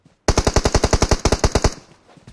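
Rapid automatic gunfire in a shooter video game, a single burst of about fifteen sharp, loud, evenly spaced shots over roughly a second and a half, followed by a brief fading tail, with no talk.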